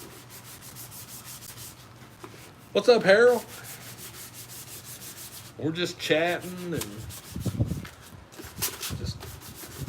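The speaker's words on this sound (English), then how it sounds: "I do some sanding on this old helmet so I can get some primer on it" Sandpaper rubs against an old helmet in short bursts of rasping strokes, close and fairly loud, between stretches of casual conversation.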